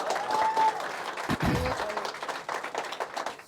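A crowd at an a cappella rap battle claps and cheers in applause, a dense wash of hand claps running throughout with a brief louder burst near the middle.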